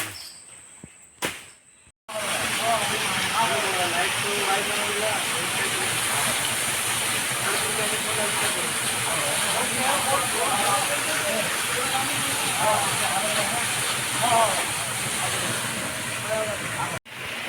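A newly installed pump at a village well runs with strong pressure, giving a loud, steady rushing hiss of water that continues unbroken after a brief quiet start, while people talk faintly over it.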